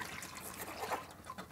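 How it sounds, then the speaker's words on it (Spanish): A cup of water poured into a pot in a home kitchen while making ceviche, a faint, steady trickle and splash lasting a moment. "Ahora echaré el agua."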